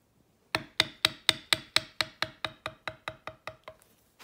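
Sharp, evenly spaced taps of a metal leather tooling stamp, held at an angle and struck to bevel alongside a feather quill, about fifteen crisp knocks that gradually soften, with no voices.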